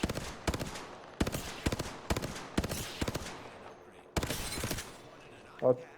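Rapid bursts of automatic gunfire in the video game Apex Legends come in about six separate volleys, each a quick string of sharp shots with brief pauses between, fired while the player strafes side to side.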